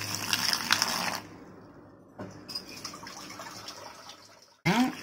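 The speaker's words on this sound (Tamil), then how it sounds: "இப்போ இதை தண்ணி ஊற்றி கெட்டியே இல்லாமல் நம்ம என்ன பண்ணிடுவோம், நல்லா வந்து மிக்ஸ் பண்ணி விட்றணும்." Water pours into gram flour batter in a bowl, giving a splashing, trickling stream that stops and restarts, followed by a short close slosh of mixing.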